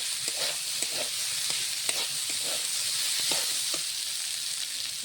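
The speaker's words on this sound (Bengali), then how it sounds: "লেড়ে লেড়ে সুন্দরভাবে ভেজে ফেলবো।" Spinach greens, cooked with potato and turmeric, sizzle steadily as they are stirred and fried in a pan, with a continuous hiss broken by soft, irregular scraping stir sounds close by.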